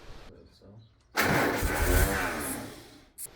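An old car engine fitted with its original distributor cranks and fires after a quiet lead-in, then runs loudly and roughly for about two seconds before dropping off, with a voice faintly present.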